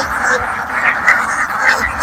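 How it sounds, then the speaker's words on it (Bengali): A large flock of about a thousand ducks on a duck farm quacks continuously, an overlapping, close, loud chorus of nasal calls with no pauses. "এখানে 1000 হাঁস আছে"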